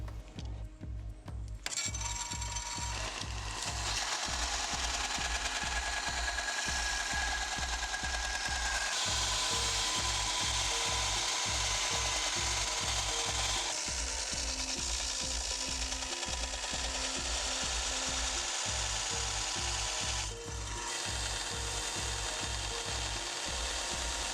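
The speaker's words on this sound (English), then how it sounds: "I'll head over to the belt sander to dial in the profile." A belt sander grinds a steel camping knife blank steadily and loudly up close, a continuous abrasive whir with a rhythmic low thumping pulse running underneath the whole time.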